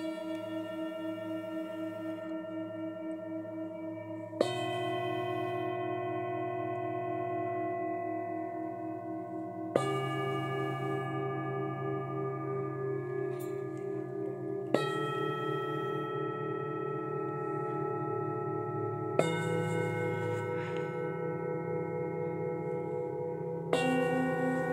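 Set of seven Himalayan singing bowls tuned A through G, struck one after another about every five seconds, each bright, sustained tone ringing out and overlapping the fading previous note.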